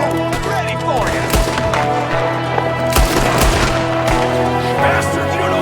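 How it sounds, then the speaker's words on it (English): Gunfire in an ambush from the Red Dead Redemption 2 video game, rapid shots from several directions over a loud, dense background with a music-like drone throughout, and sharper reports around a few moments. "It's an ambush! There's another one shooting from the window!"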